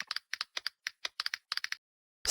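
Quick bursts of keyboard-click typing sound effects from the Opera web browser in short clusters, crisp and close, with a brief pause before one last keystroke at the end.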